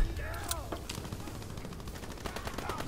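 Rapid gunfire from a multiplayer match of the video game Call of Duty: WW2, sharp bursts of shots over game ambience and background noise, fairly quiet overall with a few distinct louder cracks.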